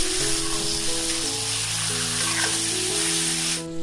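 Marinated chicken meat fries in a pan, a dense, bright sizzle filling the background while a sustained tonal hum runs underneath, stopping abruptly near the end.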